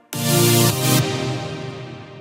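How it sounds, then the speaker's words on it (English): A low-end supersaw from the Serum software synthesizer plays in a moombahton production, one sustained, bright, buzzing chord that starts abruptly, shifts its tone partway through and then decays alone. "the serum kind of is a more low-end supersaw"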